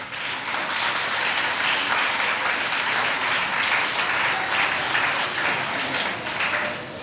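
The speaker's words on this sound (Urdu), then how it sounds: "ایک دفعہ اپنے لیے تالیاں بجائیں" Children filling a hall at a Lahore youth assembly clap together in steady, dense applause that holds strong for several seconds without any voices on top.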